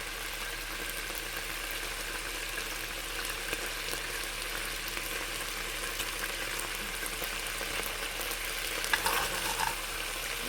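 Half a tube of concentrated Centro tomato paste toasts in a pan for chili con carne, giving a faint, steady sizzle with a few light clicks near the end.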